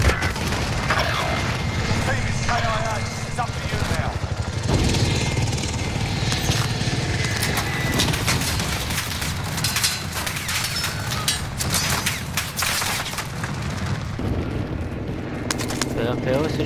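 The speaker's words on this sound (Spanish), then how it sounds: "Pero es helicóptero." A helicopter in Call of Duty Warzone, a continuous rumbling rotor drone mixed with scattered booms and gunfire from gameplay, with people talking over it throughout.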